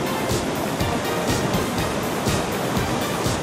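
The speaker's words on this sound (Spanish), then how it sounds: "una exuberante caída de agua entre 20 a 22 metros de altura" Cascada El Arcoíris, a lush waterfall 20 to 22 metres high near Juayúa in Sonsonate, El Salvador, produces a steady, dense roar of falling water, loud and close, with no voices.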